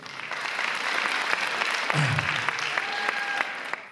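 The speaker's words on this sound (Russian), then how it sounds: "Это достойно аплодисментов отдельных." Sustained audience applause at a KVN league quarterfinal in Yakutia fills the hall with a dense, steady wash of clapping, and a brief low voice or shout cuts through near the middle.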